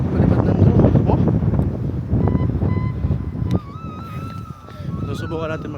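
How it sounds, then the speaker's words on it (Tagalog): Strong wind buffeting the microphone on Mt Ulap in Ampucao, Itogon, Benguet, loud rumbling gusts that surge and ease, with a person speaking over the wind. "grabe ang lakas ng hangin ngayon"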